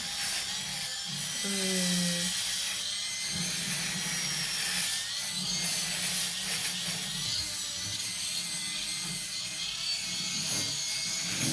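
Electric cleaning brush at its first power level scrubbing grooves in a bathroom, a steady close buzzing drone with grinding scrubbing texture throughout and a brief higher tone early on, no talking.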